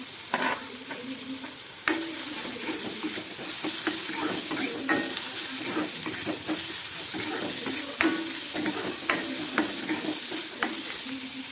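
Finely chopped capsicum is stir-fried in a pan over a high gas flame: a loud, continuous sizzle with frequent scraping and tossing strokes of the spatula, heard close up without talk.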